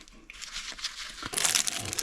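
A plastic-wrapped package of portable-toilet paper is handled up close, giving short crinkling bursts that grow louder and denser toward the end.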